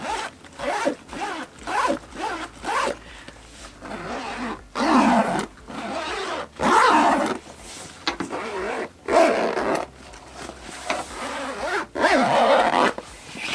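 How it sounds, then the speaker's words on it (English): A bag zipper pulled back and forth many times up close, each smooth zipping stroke loud and clear, separated by short pauses. "the zippers are so smooth and so nice to use"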